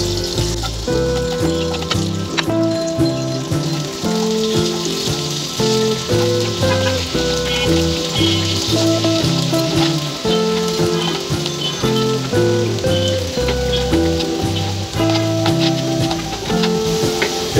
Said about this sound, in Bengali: রসুনটা এভাবে ভেজে ব্রাউন কালার করে নিতে হবে।